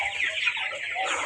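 A dense flock of chickens in a poultry farm clucks and chatters continuously, a close, busy wash of overlapping calls.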